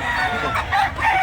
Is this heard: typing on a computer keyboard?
no